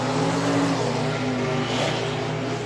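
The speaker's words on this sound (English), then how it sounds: "Listen to that BES power coming to life on the right-hand side." A nitrous-fed 582 cubic inch BES big block drag race engine at a drag racing elimination event, a steady, loud, low droning roar that holds a constant pitch throughout.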